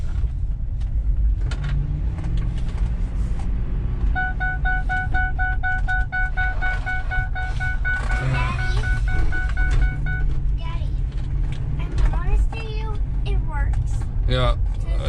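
2005 Ford Explorer being driven slowly around, with a low steady engine rumble and road noise, a repeating electronic chime partway through, and people talking over it.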